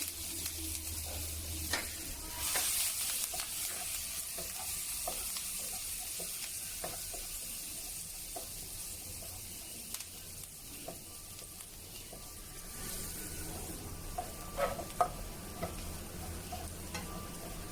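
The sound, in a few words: garlic and curry leaves sautéing in a pan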